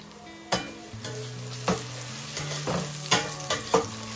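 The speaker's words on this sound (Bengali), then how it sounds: "ভালো করে ভেজে নিচ্ছি" Whole garam masala, bay leaf and peppercorns fry with browned onions in a pan, giving a steady close sizzle broken by several sharp scraping stirs of a spoon against the pan.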